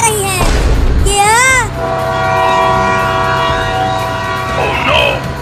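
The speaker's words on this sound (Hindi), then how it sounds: "इसी लाइन पर आगे से ट्रेन आ रही है।" In a cartoon, an approaching train sounds a long, steady horn on the tracks, with excited cartoon voices crying out before and after it.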